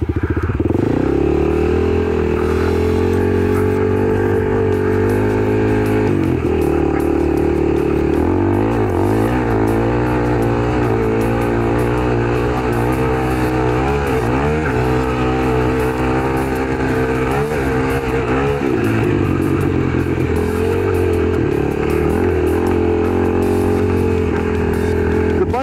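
A Kawasaki KLX300 dirt bike rides off-road over whoops at Croom, its engine droning loud and steady throughout, rising and falling with throttle changes.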